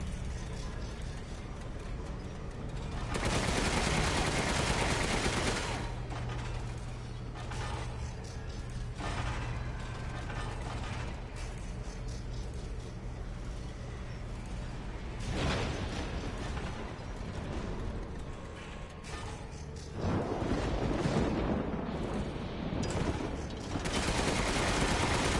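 Cannon blasts in Resident Evil Village boom in bursts, with mechanical clanking and whirring between shots as the weapon reloads; no speech.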